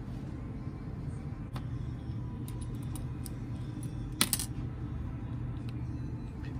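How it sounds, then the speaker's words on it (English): Screws being removed from an Oster Classic 76 hair clipper, scattered small metallic clicks and taps of a screwdriver and parts, with one brighter clatter near the end, close and fairly quiet over a low background hum. "Now, I'm just gonna take these two screws off,"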